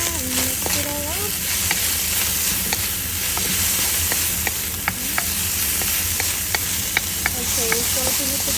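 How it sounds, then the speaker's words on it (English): Pancit noodles being tossed with a splash of vinegar in a hot pan give a constant close sizzle with scattered light clicks and scrapes of stirring, and some faint sounds in the background. "a little drop some vinegar to it. Like that, and mix it all up."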